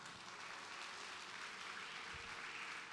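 A church congregation claps steadily, a continuous wash of applause heard from a distance and fairly faint.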